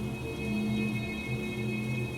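Rain falls steadily over a backyard lawn in an animated story, a constant wash of drops with a low hum beneath it, no voices.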